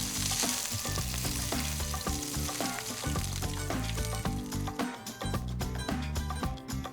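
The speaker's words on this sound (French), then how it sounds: "dans un poêlon chauffé à feu mi-fort, on va verser une bonne quantité d'huile et on va déposer quelques tranches d'aubergines" Aubergine slices frying in a generous amount of oil in a pan over medium-high heat for moussaka, a continuous bright sizzle with scattered pops and light utensil knocks, no speech.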